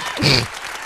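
Audience applause in an Upstate New York hip-hop setting, a short rising burst of clapping that swells and then thins out within a second.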